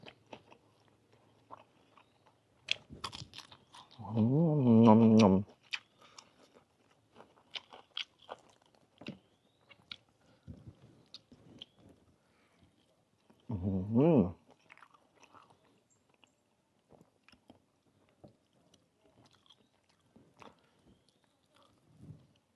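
Someone eats grilled chicken dipped in jaew bong chili paste, with sparse close bites and crunchy chewing and two louder, drawn-out voiced bursts in a quiet room.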